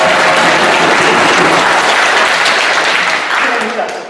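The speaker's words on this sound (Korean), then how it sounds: "우리 고맙다고 크게 박수 한번 쳐주세요" An audience at a lecture breaks into loud, dense applause that carries steadily for about four seconds before tapering off, with some voices mixed in.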